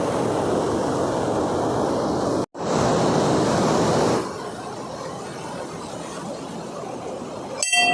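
Strong river water at Kundmala rushes in a loud, continuous roar, cutting out for an instant, then surging back before settling to a slightly lower steady flow.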